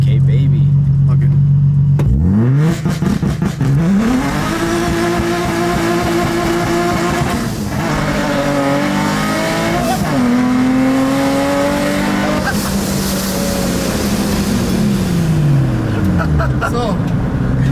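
A supercharged Infiniti G35 launches on a dyno, its engine snapping up from idle and then climbing loudly through several gears, with supercharger whine and short dips at each shift, close and sustained until it winds down.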